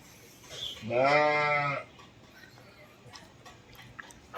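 A single drawn-out bleat from a pregnant Arashan sheep, close and clear, followed by quiet background with light ticking and clicks.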